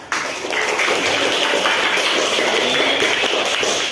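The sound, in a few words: class applauding a group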